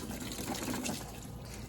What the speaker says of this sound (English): So I want to get it filled with water a little bit so I can smooth out the bottom.